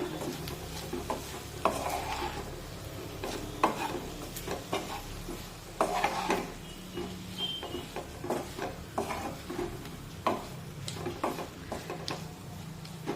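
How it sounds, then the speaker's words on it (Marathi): Potato pieces get stirred in a frying pan, a spatula scraping and clicking in an irregular rhythm over a soft continuous sizzle, close and fairly quiet, with no voices. "ते यामध्ये टाकूया व्यवस्थित मिक्स करून घेऊया"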